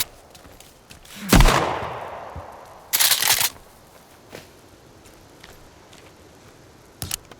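Shotgun blasts in the survival video game Sons of the Forest: two loud sharp shots a second and a half apart, then a quieter pop near the end, over a faint background.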